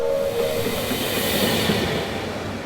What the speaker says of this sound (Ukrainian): сіли на потяг, котрий повезе лісових мешканців у сусідній ліс